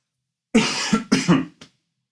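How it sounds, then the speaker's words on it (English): A short burst of four coughs in quick succession, close and fairly loud, the last one softer, with no talking. "if I'm coughing and sniffing, that's what it is"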